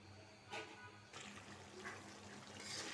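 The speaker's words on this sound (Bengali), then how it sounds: "আমি এদিক দিয়ে পাতিলগুলো ধুয়ে নিই" Water runs and splashes faintly while cooking pots are washed in a kitchen, a low steady rush with a couple of slightly louder surges, no voices.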